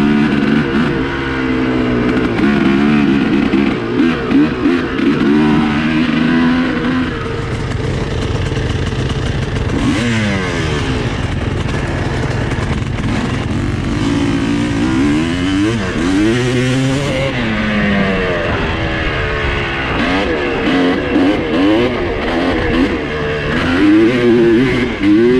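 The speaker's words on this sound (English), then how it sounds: "Good to be back on the old two-stroke." An old two-stroke dirt bike engine rides forest trails, revving loud and close with repeated rising and falling throttle sweeps and a constant buzzing drone.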